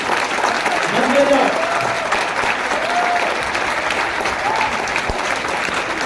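Loud, continuous applause from an audience at a Hindi-language talk, many hands clapping at once, with a brief voice rising over it near the start.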